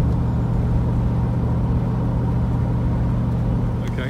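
Triumph Stag car driving, a loud steady low engine rumble and road noise heard from inside, continuous and close, easing slightly near the end as it slows.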